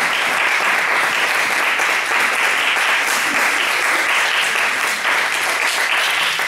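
A church congregation breaks into loud, sustained applause at a sermon. Dense clapping from many hands fills the whole stretch without pause.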